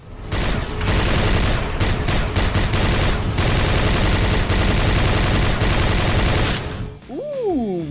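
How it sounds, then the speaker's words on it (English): Hyper Blaster, a four-barrel rapid-fire laser weapon in a video game, fires a dense continuous stream of loud, fast repeating blasts for about seven seconds, then stops as a few sweeping tonal effects ring out. "the Hyper Blaster features an impressive fire rate and can decimate foes with its rapid-fire laser blasts"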